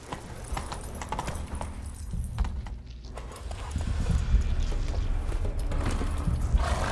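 Horse hooves clip-clop in a steady rhythm in The Witcher 3, growing louder and denser partway through as the horse picks up pace.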